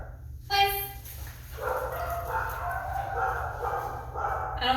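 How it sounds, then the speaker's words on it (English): Kennel dogs barking and yipping, somewhat distant and excitable, under a steady background hum with a person's voice nearby. "The kennel dogs are getting riled up."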